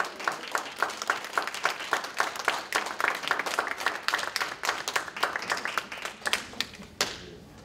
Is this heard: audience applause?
yes